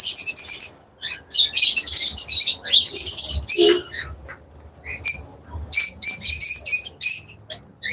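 Pet birds of a local breed chirp and squawk close by in rapid, shrill bursts separated by short silences, loud and busy with no voices over them.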